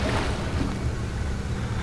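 Splashing and sloshing as a character crouch-walks through water in the horror game Outlast, a steady broadband wash held at an even level for the whole stretch with no talk.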